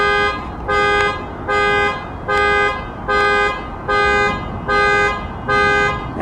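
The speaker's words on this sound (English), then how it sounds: "We've got somebody's car alarm going off." A car alarm goes off nearby outdoors, blaring a loud repeating electronic tone in regular pulses of about half a second, evenly spaced and alone.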